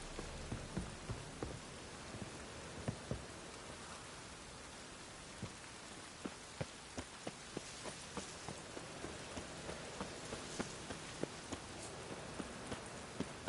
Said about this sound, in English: patches of conjured rain